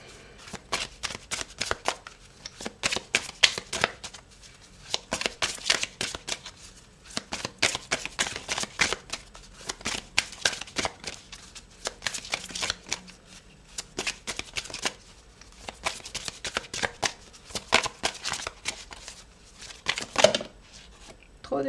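Tarot cards shuffled in repeated quick riffling bursts through the stretch, close and crisp, with brief pauses between handfuls and a voice speaking now and then.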